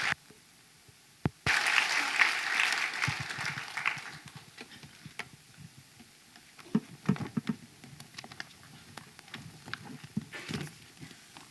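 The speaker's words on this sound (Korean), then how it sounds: "우리 하나님께 큰 박수로 영광 올려드리겠습니다." A burst of crowd applause at a church service swells up, then thins into scattered claps that taper off into quiet.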